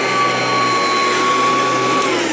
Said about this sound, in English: I'm just using a couple vacuums